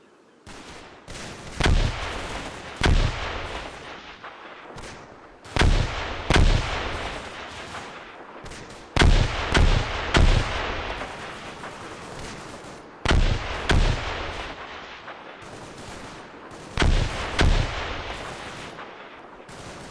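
Gunfire and artillery in the Combat Mission Market Garden video game: bursts of heavy shots and booming impacts come every few seconds, loud and echoing, with rattling fire between them and no voices.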